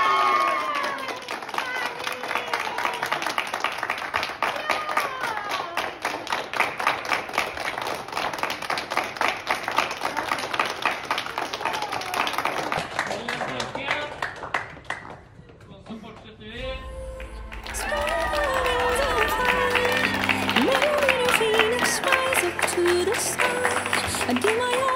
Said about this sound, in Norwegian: Og stor applaus til Johannes!